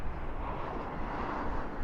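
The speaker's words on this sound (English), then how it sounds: "Spoilers up, reversers out on that A321" An Airbus A321 landing at night at Dallas/Fort Worth International Airport with spoilers up and thrust reversers deployed, a steady broadband jet roar heard from a distance, with no talk.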